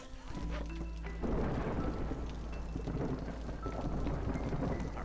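Storm thunder rumbles with steady heavy rain in the Against the Storm video game, a deep continuous roar that swells after the first second and stays loud throughout, with game tones layered over it.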